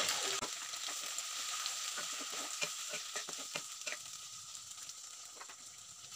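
Onions, green chillies, carrots and potatoes frying in a pan, giving a soft steady sizzle with scattered light clicks and scrapes of stirring, fairly quiet and without talk.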